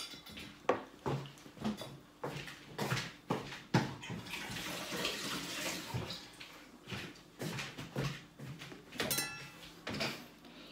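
Fruit, including kiwi, being washed under running tap water, with splashing and uneven knocks and clatters against a sink, fairly quiet and close, with no talking.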